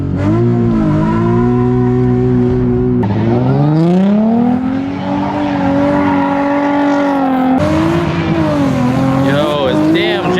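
Car engine revving hard during drifting practice, loud sustained revs that climb, dip and surge again across ten seconds, with some tire noise and a voice talking briefly over it.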